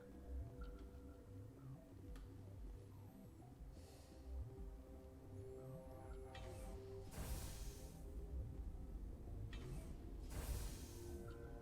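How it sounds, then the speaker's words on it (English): An elevator ride in the video game Mass Effect: a steady mechanical hum with faint ticking and whirring runs throughout, growing slightly louder toward the end. "Oh, that's the elevator."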